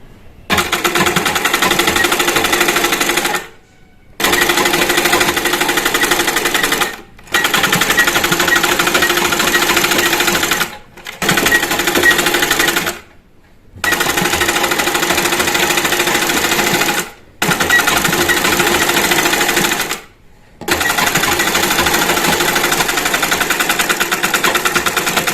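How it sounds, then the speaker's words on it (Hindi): A sewing machine runs straight stitching along a three-piece suit with the sleeves attached, giving about seven loud, steady whirring runs separated by brief pauses, with no voices. "हम अब इसके वाले से एंड तक, इसमें कट्स नहीं है, सिर्फ स्ट्रेट स्टिचिंग ही लगाना है।"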